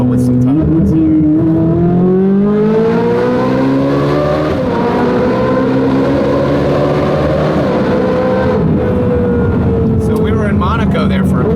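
A 2015 Ferrari 458 Speciale engine revs and pulls through a tunnel, a loud sustained roar rising in pitch and echoing off the walls, then easing off, with people talking over it.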